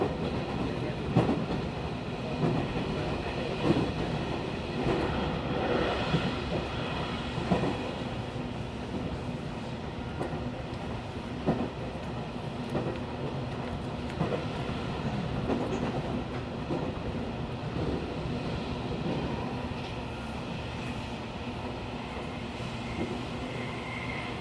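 JR Kyushu Kagoshima Main Line rapid train running from Hakata toward Kokura, heard from inside the car as a continuous rumble with rhythmic clickety-clack of wheels over rail joints, steady and moderately quiet.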